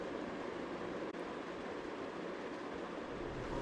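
Uzbekistan high-speed bullet train running from Bukhara to Samarkand, a steady broadband rumble and hiss of the train in motion with one brief dip, continuous and moderately quiet throughout.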